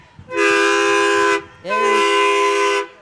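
Two long, loud blasts of a truck air horn at a county fair parade, each held for over a second, with a brief gap between them.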